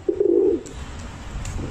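A homing pigeon, a racing bird, gives a single short, close coo that fades into quiet background.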